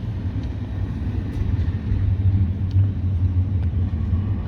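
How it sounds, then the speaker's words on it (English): A car approaches on an icy road after a snowstorm as a steady low rumble of engine and tires that swells slightly toward the end, heard from inside a vehicle with no talking. "And we got another car coming."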